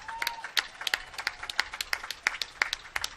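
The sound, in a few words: applause for the fire department at a Memorial Day parade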